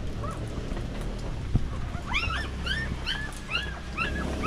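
A dog whimpers and yips in a run of short, rising whines, fairly close, over a low background hum.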